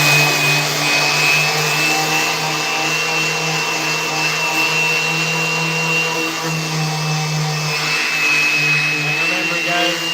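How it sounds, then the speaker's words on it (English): A Festool vacuum dust extraction system runs steadily at close range in a woodworking shop where skateboard decks are made, giving a loud, constant whine and rush with a faint steady tone on top. "this is hooked up to a Festool vacuum system"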